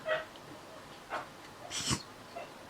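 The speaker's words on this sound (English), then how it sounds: "Can you hear the dog?" A dog that gets cross when people pass down a lane makes a few short, faint whimpering yips and breathy sounds, spaced out and somewhat distant in a quiet room.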